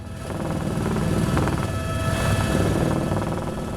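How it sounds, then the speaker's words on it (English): Helicopter rotor blades chop the thin air at high altitude near K2 in a loud, steady, rhythmic thudding drone with a straining, whining engine tone, close and continuous. "You could hear the blades of the helicopter really chopping the air and they were really kind of straining."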